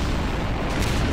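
A bomb blast in Garry's Mod gives a dense, loud, rumbling boom that holds steady for the whole brief moment, with no voices over it.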